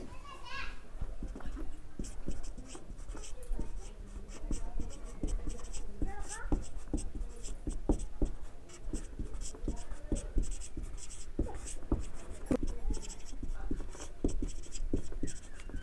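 Pen scratching on paper during a Bengali physics lesson, with repeated short strokes under a teacher's voice and children's chatter in the background.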